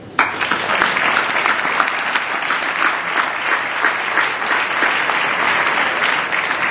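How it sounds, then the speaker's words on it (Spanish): Loud, sustained applause from an audience at a national marketing awards ceremony, a dense crowd of clapping hands that starts abruptly and continues evenly throughout without fading. "Pido un aplauso para todos ellos"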